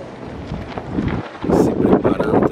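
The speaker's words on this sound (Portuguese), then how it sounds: "Ventania muito forte aqui no Ninho do Urubu." Strong gusting wind buffets the microphone at a football training ground, a rough low roar that swells louder halfway through, with no clear voices over it.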